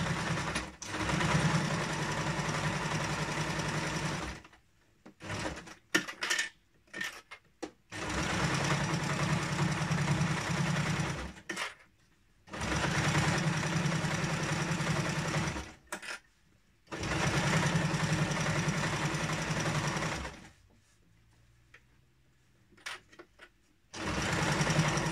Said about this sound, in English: So into the machine, back stitch